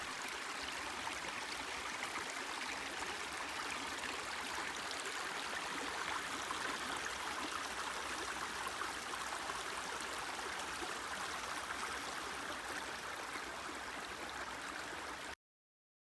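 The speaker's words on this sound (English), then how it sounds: "Let's start by listening to the creek for a few seconds." Steady creek water rushing and trickling over rocks, a continuous even wash of flow, moderately soft, with no voices, ending abruptly.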